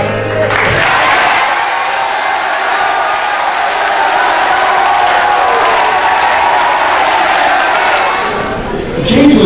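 A school spring concert audience claps and cheers loudly in a dense, sustained roar that holds steady for several seconds before fading at the end.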